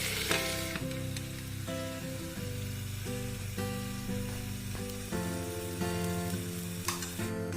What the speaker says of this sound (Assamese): পুনৰ লৰাই গোটেই মছলাৰ লগত যাতে গোটেই বস্তুখিনি ভাজ খাই যায়